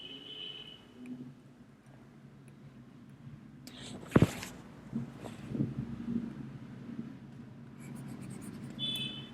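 A pen scratches across paper while drawing the resonance structure of ozone, with soft, faint strokes building to a few sharper scribbles and taps near the middle, fairly close and quiet.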